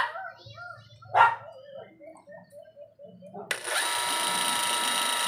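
The repaired wash motor of a Camel twin tub washing machine starts after someone speaks, then whirs and buzzes steadily and loudly until the end.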